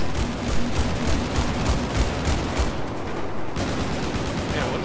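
Gunfire rattles in the video game Battlefield 4, rapid overlapping bursts and shots from several weapons crackling continuously for a few seconds at moderate loudness.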